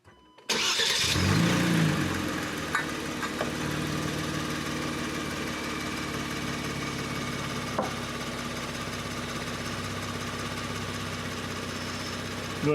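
A 2019 Kia Stinger cranks and catches abruptly, then settles into a steady, close idle that runs on evenly with no talk.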